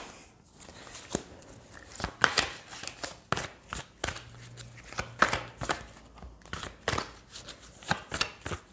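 Tarot cards are shuffled by hand close up, giving repeated quick riffling snaps and soft slaps in an uneven rhythm, with no talking.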